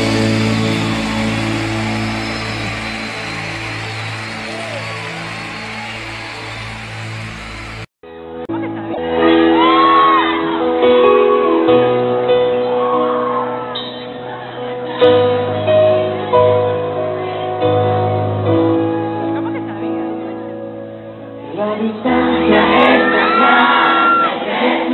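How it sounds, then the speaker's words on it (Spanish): A loud crowd cheers, shouts and applauds at a Christian music concert for about eight seconds, then the crowd noise cuts off and music plays. "Ese aplauso."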